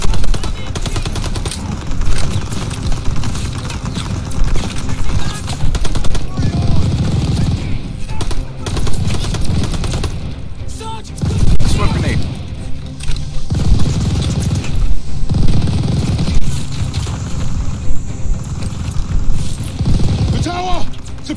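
Bursts of machine gun fire rattle through a Call of Duty: Vanguard campaign battle, repeated volleys and booms recurring across the stretch, mixed with shouted voices.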